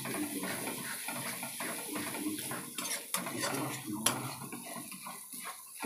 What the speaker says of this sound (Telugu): ఇది మొత్తం పచ్చివాసన పోయే వరకు కలుపుకుంటున్నాను నేనైతే